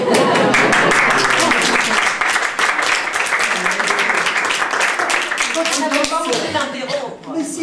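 Audience applause at a live French stage performance: loud, dense, continuous clapping with a few voices and laughter mixed in, easing slightly near the end.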